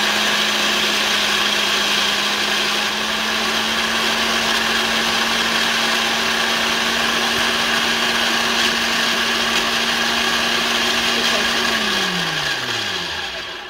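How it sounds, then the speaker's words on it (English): A food processor chopping lemon balm leaves runs as a loud, steady motor whine and roar for several seconds, then winds down in pitch as it switches off. "Or the food processor, basically. Yeah. Put it on. Chop. And it's noisy, folks."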